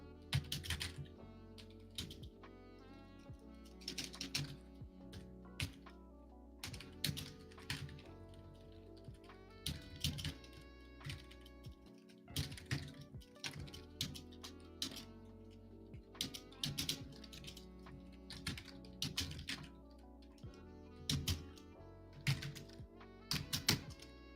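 Typing on a computer keyboard: quiet, continuous bursts of clicky keystrokes in irregular runs with brief pauses, close to the mic, no one speaking.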